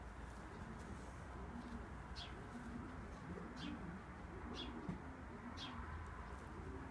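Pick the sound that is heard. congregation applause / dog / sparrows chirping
sparrows chirping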